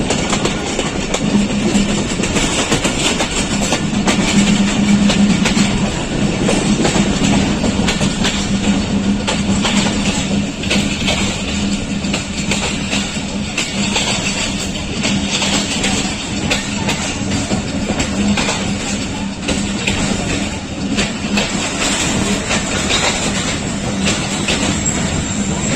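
Hazara Express train arriving at Taxila Cantt station among snow peaks, a steady loud rumble of rolling railcars with a low droning engine tone, continuous and close throughout.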